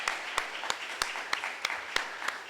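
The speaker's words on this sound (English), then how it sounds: "Can we have a round of applause for Chairman Omali Yeshitela who put this whole thing together?" A room applauds Chairman Omali Yeshitela at the African People's Socialist Party congress: a steady wash of clapping with sharp, regularly spaced louder claps cutting through, like a few people clapping in rhythm.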